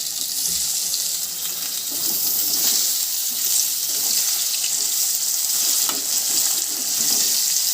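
Spices, turmeric and tomato frying in a pan for an Odia-style fish curry, a loud continuous bright sizzle with faint stirring scrapes under it, steady for several seconds.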